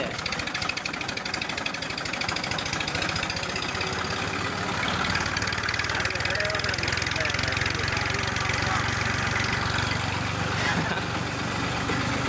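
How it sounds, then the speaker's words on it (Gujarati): A tractor engine chugs steadily and loudly up close, its rumble growing a little heavier partway through, with faint voices underneath. "ટ્રેક્ટરનો અવાજ બહુ આવે"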